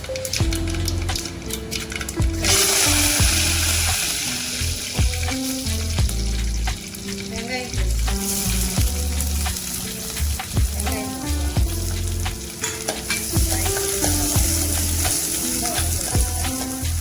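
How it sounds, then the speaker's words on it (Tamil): Mustard seeds crackle and sizzle in hot peanut oil, tempered for sambar, a steady frying hiss running the whole time beneath loud background music. "கடுகு போட்டுக்கலாம்."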